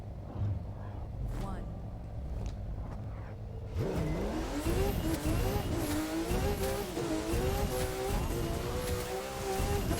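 A Porsche race car engine in The Crew 2 revs up and accelerates hard, rising through the gears with tire noise, while people talk over it.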